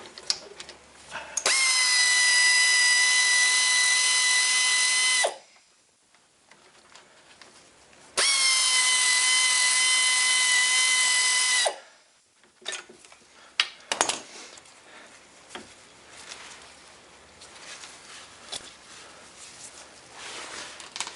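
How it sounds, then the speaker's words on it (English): Two long, loud bursts of a whining power tool spinning a bolt out of a Ford Contour's front strut, each lasting a few seconds with a pause between, followed by metallic clinks and rattles of parts and tools. "let's take that last bolt out of there"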